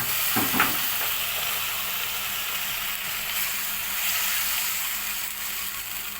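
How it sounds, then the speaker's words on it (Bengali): Water splashing into frying chicken masala for a chicken lotpoti, a brief burst at the start giving way to a loud, steady hiss of sizzling that holds to the end. "দেখুন ভাজা হয়ে গেছে। এখন দিয়ে দিলাম হচ্ছে একটু পানি।"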